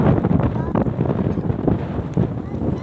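Gusty wind buffets the microphone in a continuous low rumble, rising and falling in uneven bursts.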